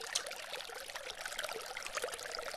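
Small trickles of water drip and patter through moss in a garden pond waterfall, a soft continuous splashing with many tiny droplets, close and gentle.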